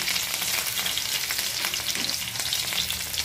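Ginger, garlic and plenty of chilies sizzle loudly in hot oil as they are stirred in a home kitchen pan, a dense, steady crackling hiss that fills the whole stretch with no voices.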